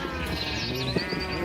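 Sheep bleating in the Minecraft video game, several short wavering bleats overlapping in a dense cluster, as if many animals are crammed together, fairly loud and continuous throughout.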